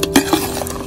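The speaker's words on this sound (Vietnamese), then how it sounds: "bây giờ mình sẽ đổ đĩa cua này vào nhá" Field crabs tipped into a hot pan and stirred in tamarind sauce, giving a short close scrape and clatter with a quick sizzle under it.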